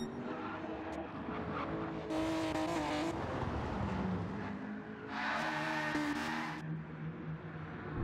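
Race cars running final practice laps before a GTO race, engines roaring and rising in pitch as cars pass close by, with brief tire squeal and a steady background drone of the field.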